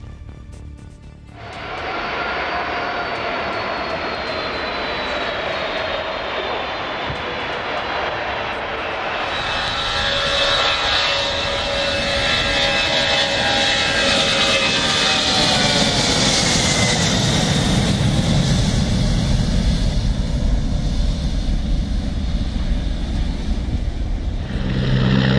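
An airplane descends in flight, its engine roar steady and loud throughout, building slightly louder and nearer in the second half, with no talking.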